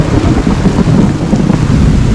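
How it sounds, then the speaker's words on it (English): A thunderstorm with heavy rain and lightning hits Santa Maria, Cuba, during hurricane season, a very loud, constant low roar of downpour with deep rumbling filling the whole stretch, no talking. "a lot of lightning going on right now, and a lot of rain"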